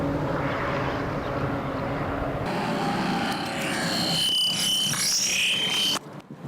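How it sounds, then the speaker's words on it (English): Traffic going by recorded on an iPhone through a Tascam iM2 microphone: a broad roaring wash of passing vehicles that swells and fades, with wind buffeting the mic and a sudden drop near the end. "I'm currently recording the sounds of the traffic going by."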